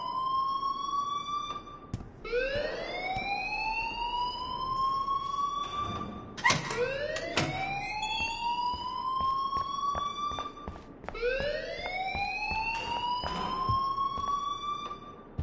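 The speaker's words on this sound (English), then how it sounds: "please turn off that alarm since that's your job." A rising, wailing alarm in a video game sounds in repeated sweeps, each climbing and then holding, loud and continuous with clicks and knocks underneath.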